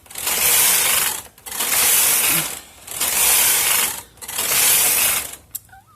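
Brother 260 knitting machine carriage in plain knitting, four long broadband swishing passes back and forth with brief pauses between, close and fairly loud, ending with a small click.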